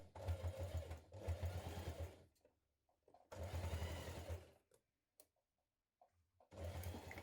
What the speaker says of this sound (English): Stitch it around the edge.